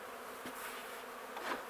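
Honey bees buzz softly and continuously around an open hive during a beehive inspection, with no talking.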